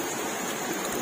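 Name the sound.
rushing floodwater of overflowing river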